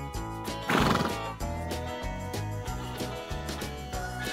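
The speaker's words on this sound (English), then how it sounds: "There are horses on the farm." A farm horse gives one loud whinny near the start, then softer clip-clop fades under steady background music, with no voices.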